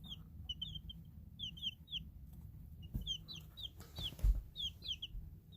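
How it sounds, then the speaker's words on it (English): Baby chicks peep in repeated high, chirpy bursts, fairly close and moderately loud, with scattered scratching and rustling beneath them. "All the little peepin'."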